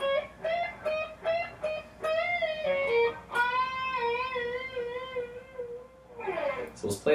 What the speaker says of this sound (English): we're going to bend up in a whole step and then add vibrato